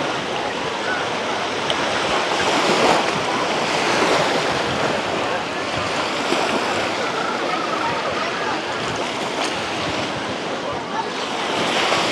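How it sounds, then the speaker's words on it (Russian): On an overcast day at Dzhemete beach in Anapa, steady sea surf washes continuously alongside a light breeze that rumbles against the microphone, a dense and even wash of sound with no talk. "Со стороны Витязева дует легкий ветерок."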